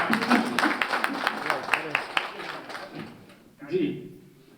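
A crowd at an outdoor evening environmental event claps for the host's villagers: a dense patter of hand claps runs for about three seconds, then fades, followed by a short burst of voice.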